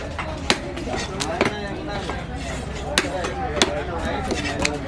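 Trevally being chopped at the Kasimedu fish market, a busy hard-surfaced stall: sharp blade strikes land irregularly against steady crowd chatter and market noise, with a few louder chops standing out.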